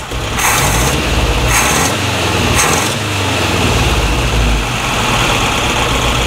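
A Subaru EA71 engine fitted with an electronic distributor runs steadily nearby, a loud continuous idle with a low rumble and a few brief rising swells in the higher hiss, no talking.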